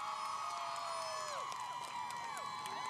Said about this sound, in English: Got a great crowd out here all the way from Plymouth